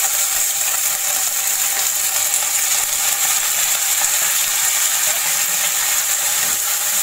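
Tomato and onion with curry leaves fry in hot oil as a tempering for a drumstick sambar, giving a loud, steady, dense sizzle that holds without a break and with no talk.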